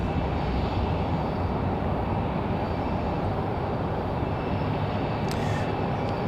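A Delta airliner takes off from Raleigh Durham on a windy day bound for Los Angeles, a loud, continuous engine rumble heard steadily throughout with no voices.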